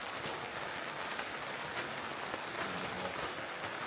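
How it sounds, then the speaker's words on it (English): Heavy rain drums steadily on a tent in bad-weather camping, a dense, even patter of drops with no voices over it. "It's raining like crazy, dude."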